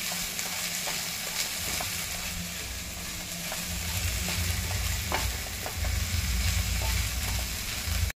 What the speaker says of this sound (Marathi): आपण कांदा आणि हे छान परतून घेतलंय.